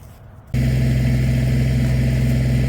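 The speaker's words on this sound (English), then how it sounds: "we're about to go use our tractor and get this off" A Kubota BX23S compact tractor engine starts abruptly after a moment of quiet and then runs at a loud, steady idle with a constant low drone, close by and with no talk.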